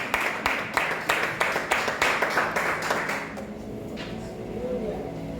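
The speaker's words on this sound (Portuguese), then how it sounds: "Aplauda Jesus Cristo" A church congregation claps in praise of Jesus Christ, a run of loud, fairly steady claps that stops after about three seconds and gives way to quieter room murmur.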